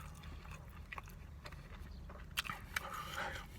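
A Chipotle steak burrito topped with salsa is bitten and eaten close up, with a few soft crunching and slurping bites and wet smacks over a quiet low background rumble.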